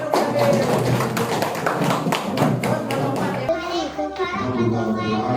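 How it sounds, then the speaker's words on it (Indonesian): Children clap their hands together in a classroom group, a dense run of claps that stops abruptly partway, followed by children talking. "tepuk tangan"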